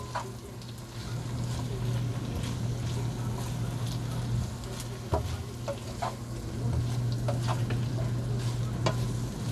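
Chicken liver and tofu in oyster sauce sizzle and fry in a pan while being stirred, a steady close sizzle broken by scraping utensil strokes, with no talking.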